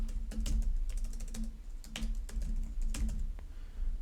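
Quick bursts of keystrokes on a computer keyboard as sign-up details are entered, with clicks arriving in uneven clusters separated by short pauses, close and clear with no talking.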